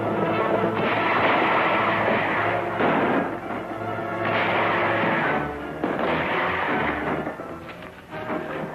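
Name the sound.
gunfire in a western shootout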